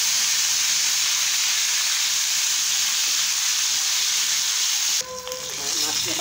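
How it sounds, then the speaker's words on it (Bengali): Pieces of rohu fish fry in hot oil with a loud, dense, even sizzle for about five seconds before the sound cuts abruptly to a quieter passage. "মাছগুলো একটু ভেজে দিয়েছিল, একটু একসাথে ভেজে দিয়েছি।"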